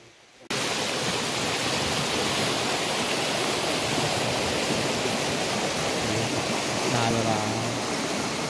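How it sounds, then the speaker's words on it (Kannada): A forest stream swollen with extra water, pouring over rocks like a small waterfall, with a loud, continuous close-up rushing roar after a quiet first half second; a brief faint voice is heard near the end. "ನೀರು ಜಾಸ್ತಿ ಆಗ್ಬಿಟ್ಟು ಇದೇ ಒಂದು ಚಿಕ್ಕ ವಾಟರ್ ಫಾಲ್ಸ್ ಥರ ಆಗ್ಬಿಟ್ಟೈತೆ"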